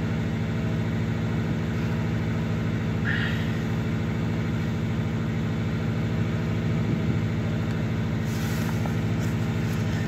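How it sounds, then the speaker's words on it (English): A JDM Subaru engine idles smoothly and steadily, a constant low mechanical hum with no revving and no voices. "Okay, the idle is smooth now. That's good. Not smoking like it was."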